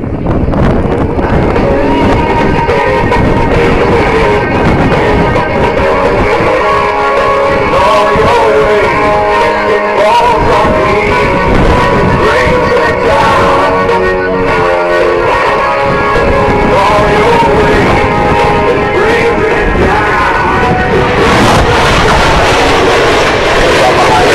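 Blue Angels jets fly the double barrel maneuver at an October 2007 air show, making a loud, sustained roar mixed with wind buffeting throughout.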